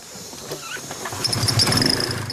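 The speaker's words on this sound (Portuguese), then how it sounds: "O motor de 2 tempos irá permitir que York navegue entre a copa das árvores" Small two-stroke backpack motor carried aloft by a balloon, buzzing steadily and growing louder toward the end, with no one talking.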